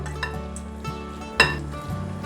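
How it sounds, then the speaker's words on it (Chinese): Spoonfuls of cabbage vegetable-ball batter dropping into a wok of hot oil, a steady sizzle with a sharp clink of a spoon or pan near the middle, close and moderately loud. "热一锅油，油锅的纹路有在流动了，现在放入面糊。"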